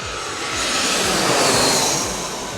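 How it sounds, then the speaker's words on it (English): A jet airliner on final approach along the Potomac, landing on runway 19, passes overhead with a loud, steady engine roar that swells and then eases off, with no voices. "there's a jet landing on runway 19"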